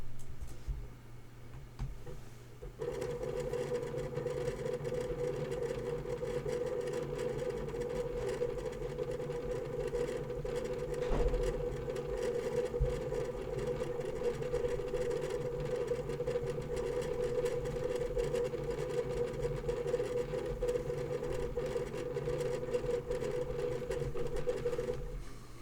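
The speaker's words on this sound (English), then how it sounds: "I'm going to perform exactly the same test, but this time on that IronWolf Pro 20 TB that's only got one actuator" A Seagate IronWolf Pro 20 TB single-actuator hard drive runs a benchmark, giving a steady mechanical whir and rapid seek chatter that start after a quiet opening and hold evenly, loud and close, for the rest of the stretch.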